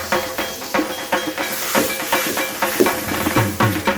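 Yogurt mixture goes into a hot pan with tomatoes over a low gas flame, giving a steady, close hiss and sizzle broken by repeated soft scrapes of stirring.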